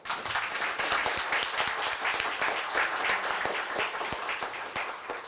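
An audience at a biodefense strategy seminar claps steadily throughout, a dense, continuous wash of applause with no voices.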